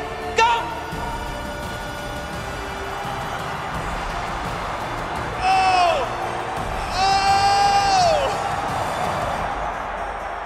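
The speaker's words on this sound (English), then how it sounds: "crowd, I need you to make some noise for these dogs right here" A stadium crowd at an NFL halftime corgi race cheers and shouts, a steady broad roar with two louder swells of whooping, while an announcer's amplified voice carries over the noise.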